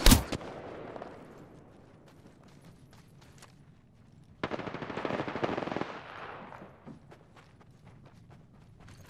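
Gunfire in the video game Apex Legends: a loud opening shot, then scattered sharp single shots and a dense burst of automatic fire midway, with quieter rapid pops trailing off afterward.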